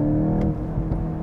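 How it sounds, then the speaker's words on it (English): A 2023 Volkswagen GTI hot hatch accelerating hard, its exhaust droning loudly up close, with quick crackling pops and burbles breaking through the engine note. "you can hear that cracks from the burbles from the exhaust"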